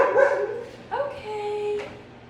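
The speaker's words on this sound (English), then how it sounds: "I apologize for the dogs in the background." Dogs bark and whimper nearby in a home kennel setting, a couple of sharp barks followed by a drawn-out whine, with a faint voice in the background.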